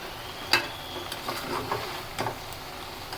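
Spices are stirred into raw jackfruit curry in a pan, a soft sizzle broken by a few sharp spatula knocks and scrapes spaced unevenly.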